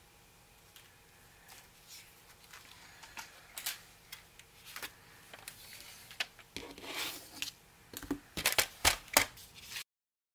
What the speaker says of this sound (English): So I'm just going to trim the white off the top and the bottom and slice these down to 4